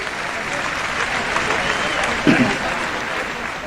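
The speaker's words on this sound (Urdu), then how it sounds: "اپنے لیے بھرپور تالیاں بجا لیجئے" Audience applause at a Urdu poetry mushaira in Dubai, a steady wash of many hands clapping throughout, with a short thump near the end.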